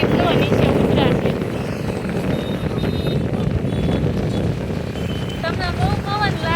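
Strong wind roars across the microphone on a bridge, a constant heavy buffeting rumble, while people talk and shout over it.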